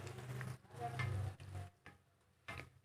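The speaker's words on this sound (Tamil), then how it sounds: "எண்ணெயில் போட்ட உடனே இந்த மாதிரி குட்டி குட்டியாக பபிள்ஸ் வரும்" Bread gulab jamun frying in hot oil on a medium flame, a soft steady sizzle with small bubbling bursts that swell and fade, fairly quiet and close.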